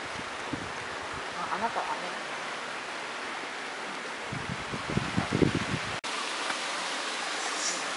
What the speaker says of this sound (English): Why is it raining every time I come over here?